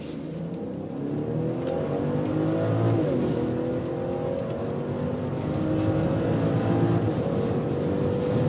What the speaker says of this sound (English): we go with the Autobahn acceleration, and we'll start at about 40 kilometers an hour, sports mode